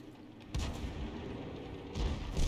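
Grille self-propelled artillery gun firing a shell in World of Tanks, one heavy booming blast near the start followed by a second rumbling report near the end over a low battlefield hum.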